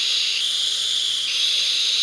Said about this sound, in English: I have a bit of a whistling issue only when it's wide open